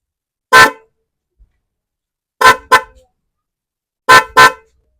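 Dual horn freshly fitted to a Motorstar Easy Ride 125 motorcycle, sounding five loud, close, short blasts: a single toot, then two quick pairs separated by silence.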